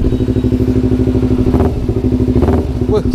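Kawasaki Ninja FI motorcycle engine idling after standing unused for three years, a loud, close, rapid steady burble with a couple of short throttle blips and rattles near the end.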